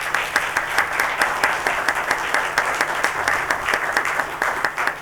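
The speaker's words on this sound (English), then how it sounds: "please give the panelists a wonderful round of applause" A symposium audience applauds the panelists with steady, dense clapping from many hands that holds for several seconds at a fairly loud level, with no talk over it.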